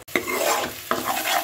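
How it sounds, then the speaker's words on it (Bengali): Onion paste stirred and fried in a pan over low to medium heat while making chital fish kalia: a steady close sizzle with two sharp scraping stirs, no talking. "এইবার পেঁয়াজটা আমি মিডিয়াম হিটে রেখে, লো টু মিডিয়াম হিটে রেখে একটু ভাজা ভাজা করে নেব।"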